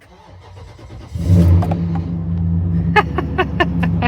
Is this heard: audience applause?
no